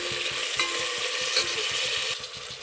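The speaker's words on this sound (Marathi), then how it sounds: "ते पण असं थोडंसं फ्राय करून घेऊया. आता टाकू उभा चिरलेला टोमॅटो." Sliced tomato frying in a pan while masale bhat is cooked, a steady soft sizzle with faint rhythmic stirring scrapes underneath.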